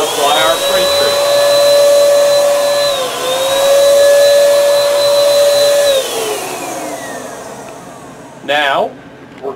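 A DTG pretreat machine runs with a steady, loud whirring mechanical tone that rises and holds as it sprays pretreatment onto a dark cotton garment, then winds down, followed by a brief clatter near the end.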